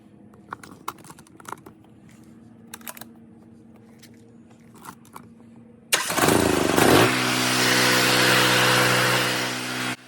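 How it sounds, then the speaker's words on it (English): Firman 7500 watt dual fuel portable generator running on propane: a few faint clicks and taps, then the engine fires and settles into a loud, steady running drone, with no talk. "Turn on the propane supply, and now let's fire up the generator."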